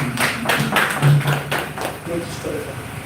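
A small crowd at a Jju Wikipedia outreach event gives a short round of applause, scattered claps tapping through for a few seconds while a voice speaks over it.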